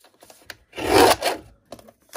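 A Tim Holtz deckle cutter slices through green paper in one rough, rasping pass lasting about half a second, preceded and followed by faint small handling taps, close and fairly loud with no talking.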